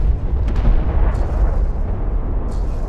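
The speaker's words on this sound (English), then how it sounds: "A turret is under fire." Heavy rumbling battle noise from the Homeworld: Deserts of Kharak strategy game as a turret comes under fire: a continuous low, booming roar of explosions and artillery, with a few sharper bursts breaking through.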